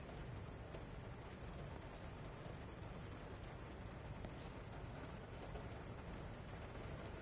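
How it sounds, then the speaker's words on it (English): Steady, soft rain falling in the video game Everybody's Gone to the Rapture, an even hiss that stays constant throughout with no voices. "So there's that rain sound."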